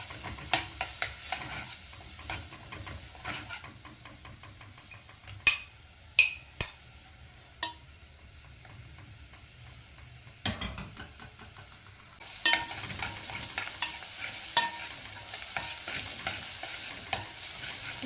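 Onions frying in ghee keep up a steady sizzle while a spoon stirs and clinks against the pot in sharp, irregular taps, with a louder stretch of sizzling toward the end.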